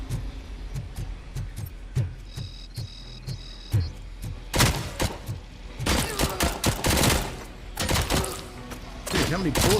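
Gunfire in the RoboCop video game starts as a regular series of single thudding shots, then turns into dense, loud rapid bursts as an enemy is hit, with a player talking over it.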